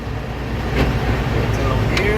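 A semi tractor in low gear pulls against its own brakes with the trailer brakes released, giving a loud, steady, close diesel engine rumble that holds throughout.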